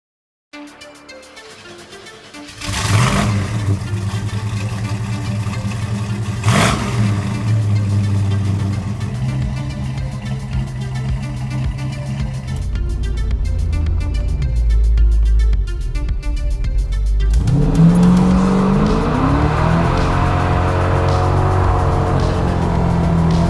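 A Chevrolet Camaro Z28 engine starts from near silence, then revs and idles with a deep, steady rumble that climbs toward the rev limiter in a rising drone near the end.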